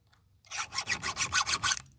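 A Stihl 2-in-1 sharpener files chainsaw chain teeth in a quick burst of about eight short, even rasping strokes, close and fairly quiet, after a brief pause.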